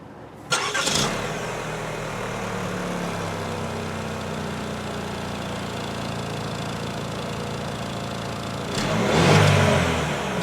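A 2018 Chevy Equinox LT AWD fires up from its push-button start, a brief starter whirr catching into a steady idle, then a swelling rev near the end, heard close from inside with no talk.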